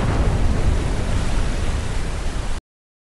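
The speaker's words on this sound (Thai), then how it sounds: "ฝนตก" A rain and thunder sound effect: a dense, loud, steady wash of broadband noise with a deep rumbling low end, running about two and a half seconds before cutting off abruptly to silence, with no voices.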